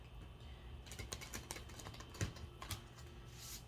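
A quick series of soft clicking snaps as oracle cards are shuffled, riffled and tapped, close and quiet, with no talking.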